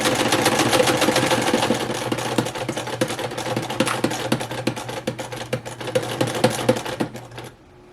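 A vintage Singer sewing machine stitching at a fast, even rhythm, a close mechanical clatter with a steady motor whir underneath that stops abruptly at the end.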